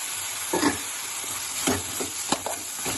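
Tomatoes and capsicum frying in a pan, a constant close sizzle broken by several short scraping stirs of a spoon.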